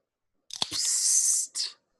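A voice imitates a can popping open: a short click followed by a long breathy hiss, then a brief second burst of hiss.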